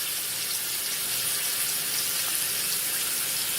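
Steady rush of running tap water pouring into a sink, loud and continuous with no talking, as hands are rinsed clean after mixing burger meat.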